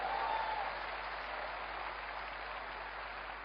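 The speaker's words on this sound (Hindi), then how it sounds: "जोरदार ताली अपने आप के लिए दोस्तों।" A large audience at an Amway business event applauds in a steady, continuous wash of clapping, slightly louder at the start, heard without speech over it.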